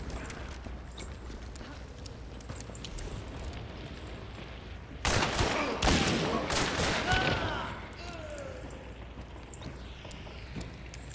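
Blank-fire decoys in the Hunt: Showdown video game crackle in a short, dense burst of gunfire-like pops midway, set against quieter in-game ambience before and after.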